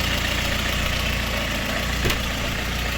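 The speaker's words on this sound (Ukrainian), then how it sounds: "Ось так працює, да, мотор шумноватий, але працює" A VAZ 2110 car engine idles steadily after repair, a loud continuous mechanical hum with a faint rhythmic knock and one brief louder blip, no voices.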